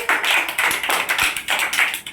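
Hands clap in a steady rhythm during a children's number-counting game, about four clusters of sharp claps in a little over two seconds, close and loud with a busy group feel.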